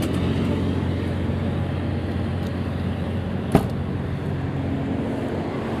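An Onan 10K quiet diesel generator on a Tiffin Allegro Bus 45FP motorhome hums at a steady low drone, with a single sharp click partway through.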